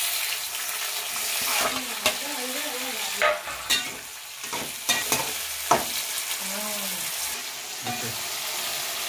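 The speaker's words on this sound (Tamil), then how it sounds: "ஆனியன் வதங்கினோடனே டொமேட்டோ கட் பண்ணி வச்சுருக்கோம் டொமேட்டோ சேர்த்துக்கலாம்" Onion and tomato sauté in a hot pan for a quail gravy, giving a loud, continuous sizzle broken by repeated scraping stir strokes, with a faint voice in the background.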